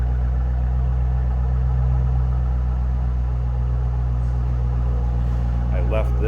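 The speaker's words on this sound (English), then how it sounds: "I believe these had a Ford Racing performance exhaust for a nice, deep, throaty sound" A 2007 Ford Mustang Shelby GT with a Ford Racing performance exhaust idles close by, giving a deep, steady, throaty rumble that stays even throughout.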